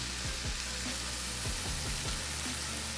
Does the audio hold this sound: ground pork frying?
yes